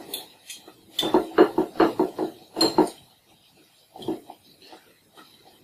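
A fork and spoon breaking up and separating cooked rice in a dish, a quick run of close clinking and scraping taps against the dish, then a pause and a few softer scrapes.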